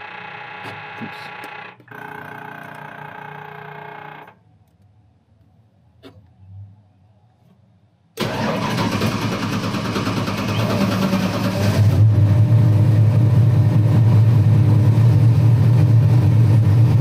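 A 1,000-horsepower turbocharged small block Ford with Holley EFI on a dyno, heard first as a fuel-pump whir, then a pause with faint clicks, before the engine cranks, catches and settles into a loud, steady, deep idle.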